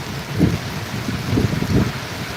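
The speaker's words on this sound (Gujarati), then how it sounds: "ગોંડલમાં વરસાદ સારો પડી રહ્યો છે" Heavy rain pouring at the Gondal marketing yard, a loud continuous wash with low thumping surges coming and going, no talking.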